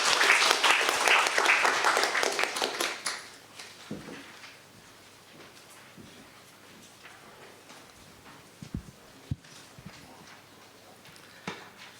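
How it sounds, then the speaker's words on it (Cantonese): Audience applause welcoming a professor to the podium at a Hong Kong press announcement fills the first three seconds, then stops abruptly, leaving a quiet room with scattered footsteps and small knocks. "掌聲有請"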